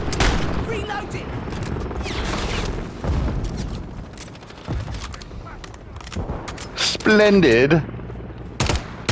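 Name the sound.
gunfire in video game Call of Duty Modern Warfare 3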